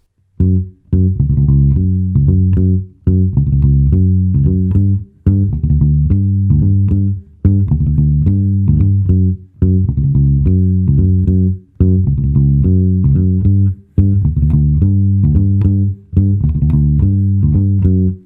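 A Fender Jazz bass with flatwound strings plays a repeating, rounded low riff at about 103 BPM with a dull, thumpy tone, looping in steady phrases separated by brief gaps.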